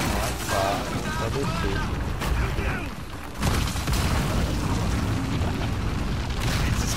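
Heavy, continuous rumbling blasts and booming noise from explosions in the video game Uncharted 4: A Thief's End fill the mix, with voices shouting faintly underneath.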